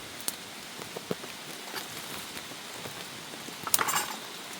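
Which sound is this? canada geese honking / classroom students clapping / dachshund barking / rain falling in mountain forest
rain falling in mountain forest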